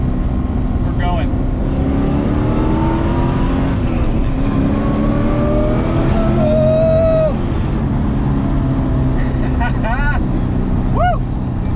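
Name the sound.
LS V8-swapped Mazda RX-7 FD accelerating onto freeway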